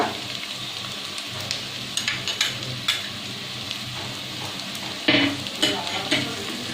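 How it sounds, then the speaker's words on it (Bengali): Ginger and garlic paste sizzles in a pan on top of onions that are already fried. Spatula scrapes and stirring clatter come back again and again over the steady crackle. "তারপর একটু আমি ভাজা ভাজা করে নেব।"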